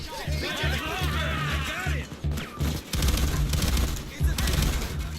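Rapid bursts of gunfire from shooting enemies in the Payday 2 video game with difficulty mods, dense repeated shots in quick clusters with brief gaps, while a voice talks over the action.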